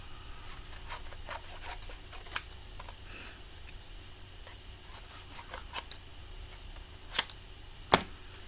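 Scissors trim a craft plate in a series of quiet rasping cuts punctuated by a few sharper, louder snips toward the end, over a faint steady hum with no talking.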